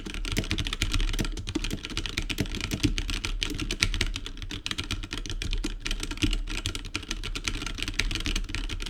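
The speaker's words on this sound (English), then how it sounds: "bang around on some keys and see what we get" Fast, continuous typing on a computer keyboard, keys clacking quickly and densely at close range through a desk microphone, with no voices.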